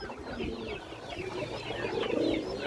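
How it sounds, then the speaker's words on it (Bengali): Male black Muslodom pigeon cooing softly in repeated low calls, close by and fairly quiet against light background noise. "এই দেখেন নরের ডাক দেখেন দর্শক"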